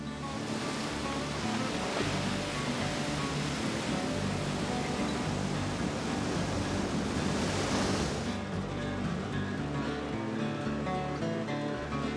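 Ocean surf at Makapu'u Bay and Sandy Beach in Hawaii rolls in as a constant loud roar of breaking waves, with a swell that peaks and eases near the end.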